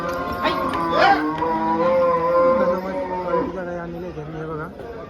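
HF and Jersey cows moo in long, drawn-out calls, one overlapping another, loud and close amid a busy cattle market.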